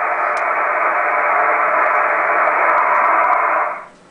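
Steady hiss of radio static received through a 40-meter double bazooka antenna, a dense even noise holding for a few seconds before fading out abruptly.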